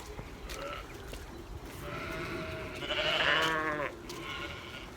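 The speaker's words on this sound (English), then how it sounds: "Now we're bringing the sheep and lambs down the road for the first time." Sheep and lambs bleating outdoors as they are driven down a road, several overlapping calls rising and falling over a constant background rumble.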